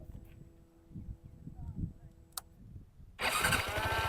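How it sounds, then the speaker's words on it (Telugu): After some low murmuring voices and a brief click, a Yamaha R15 motorcycle's electric self-starter cranks the engine, which catches, then runs loudly and steadily up close. "ఇట్లా స్టార్ట్ అవుతుంది సెల్ఫ్ మోటార్ ఇచ్చిన్నాడు"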